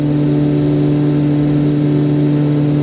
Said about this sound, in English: But I can't turn these engine sounds down any lower.